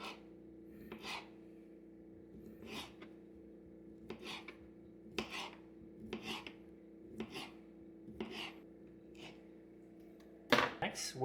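A knife slices andouille sausage on a board in a slow, regular series of soft slicing strokes, close and quiet, each followed by a short pause.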